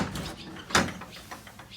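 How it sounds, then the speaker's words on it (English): A garage door in a dim workshop is pulled open, with a single sharp clack of the mechanism midway through amid quiet room noise. "Let's get this door open."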